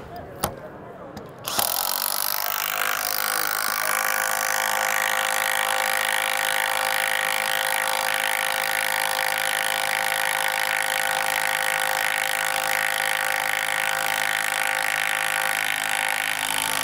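A compact 12-volt power tool drives a fastener, a steady loud motor whine starting after a short click and holding evenly for about fifteen seconds, close up.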